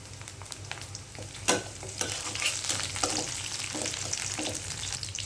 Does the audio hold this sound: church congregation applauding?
no